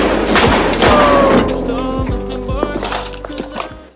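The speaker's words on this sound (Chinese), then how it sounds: "纳粹举着步枪威胁两人出来，随即扣动扳机射中一名游击队员" Rifle fire in a wartime film scene with Nazi soldiers and partisans: a loud shot bursts out at the start, followed by further cracks and thuds over a busy, tonal soundtrack.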